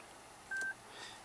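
A short electronic chime from a 2013 Lexus CT200H F-Sport as the push-start power button is held, a single faint tone over quiet cabin hiss.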